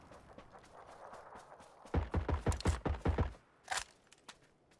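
Rapid rifle gunfire in PUBG rings out as a fast string of about eight sharp, evenly spaced shots, followed by one more isolated shot and faint background game noise.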